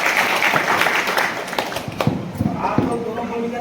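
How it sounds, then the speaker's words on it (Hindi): An indoor audience at a training workshop claps together, a dense patter of hand claps that thins into scattered claps while a voice carries on over it. "तो इनके लिए एक बार पुनः ताली बजाते हुए"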